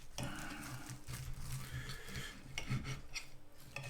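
A Poundbakery paper bakery bag being opened, giving close, quiet crinkling and rubbing rustles in irregular bursts, with a sharper crackle near the end.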